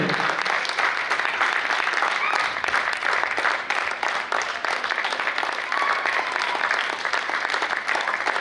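An audience at a dance-drama performance during a cultural festival in Bhopal keeps up continuous, dense applause for the performers, steady and full for the whole stretch with no talk over it.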